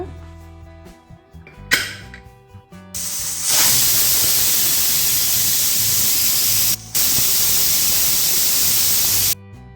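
Pressure cooker on the stove cooking dill leaf pulao lets out a loud sustained hiss of escaping steam after a few short bursts, with one brief pause before it cuts off.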